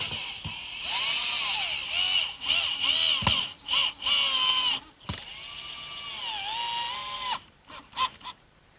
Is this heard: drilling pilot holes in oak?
yes